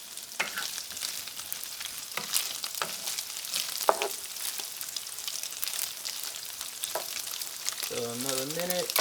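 Sausage browns in a pot for a white bean and kale stew, giving a steady close sizzle and crackle with occasional stirring scrapes and a brief voice near the end.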